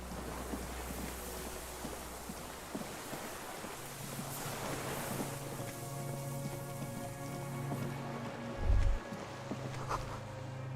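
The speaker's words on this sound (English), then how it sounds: "Signal horns echo on the water." Disco Elysium's waterfront ambience: a steady wash of rain and lapping water with low, drawn-out horn tones from distant cargo ships sounding over it, and one louder low blast near the end.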